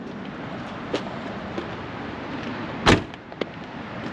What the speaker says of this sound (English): Driver door closes just like it should.